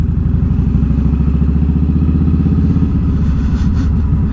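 A motorcycle rides out through a cemetery gate in Gainesville, North Texas, its engine a loud, steady, close throbbing rumble with fine rhythmic pulsing and no voices.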